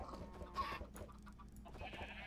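Minecraft chickens and baby chickens in a pen, several soft clucks and bleat-like calls scattered across a brief, fairly quiet stretch with faint background noise.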